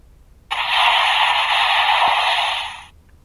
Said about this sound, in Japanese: これがバックル飛び出し準備音。